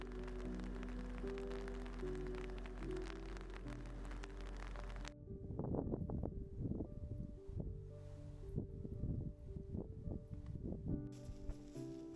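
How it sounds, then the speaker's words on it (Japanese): Heavy rain patters steadily on a mountain tent at Harinoki-dake, a dense close drumming with irregular sharper hits, following a stretch of music with no talk. "しばらくして再び強い雨が降り始めました。"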